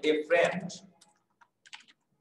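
Several sparse, light keyboard taps come in quick small bursts while a sentence is typed, faint and close, following a short stretch of speech at the start.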